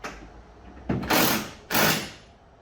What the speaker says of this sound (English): I'm going to start with a little impact just to run the nuts in.